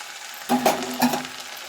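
Cabbage is stirred and fried in a pan, giving a soft sizzle and two short scraping stirs close by.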